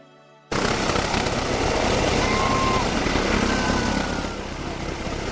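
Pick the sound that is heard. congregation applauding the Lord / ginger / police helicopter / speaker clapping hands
police helicopter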